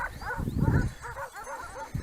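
Sheepdogs guarding a small flock in a mountain meadow bark repeatedly in quick bursts, fairly close, with yipping, whimpering tones between barks.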